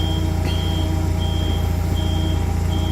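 Forklift reversing alarm sounding steady, evenly spaced beeps up close over a constant low diesel engine idle, with no talking.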